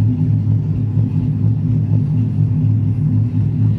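A car fitted with a Mark82 cam idles, heard from inside the cabin as a steady, deep, loud rumble with a slightly uneven pulse and no talking.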